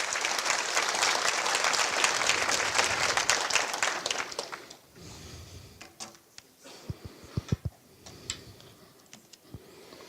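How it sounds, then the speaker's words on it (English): Conference audience at DevOps Days Kyiv 2019 applauding after a talk, a dense sustained roar of clapping for about five seconds that then thins into scattered, fading individual claps. "How about another round of applause for Paul, everybody?"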